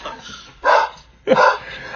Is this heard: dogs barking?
yes